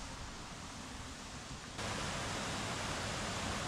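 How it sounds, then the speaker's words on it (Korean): Cool water rushes through a narrow gap between rocks in a mountain valley stream, a steady broadband hiss that jumps louder halfway through as if moving closer, with no voices. "좁은 바위 사이로 시원한 계곡물이 흐르고 있었는데요."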